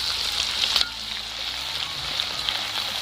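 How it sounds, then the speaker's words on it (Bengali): Raw rice frying in hot oil in a wok gives a steady, close sizzle with a few brief louder crackles and scrapes, and nobody speaks. "বাকিগুলো ঠিক একই রকমভাবে ভেজে নেব"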